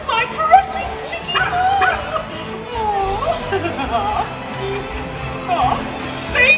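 Robo Dog, a robot dog character, barks in bursts at a Paw Patrol Live stage show in Toronto in 2023. The barks ring out over a busy hall of children's voices and amplified chatter.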